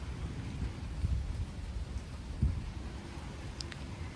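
Steady rain with low rumbles of thunder from an approaching storm, a soft continuous hiss broken by a couple of distant booms.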